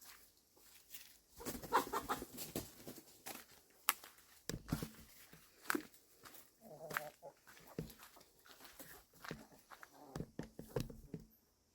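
Chickens huddled in a corner cluck and murmur softly in irregular bursts, with rustling and shuffling movement close by and no clear talk.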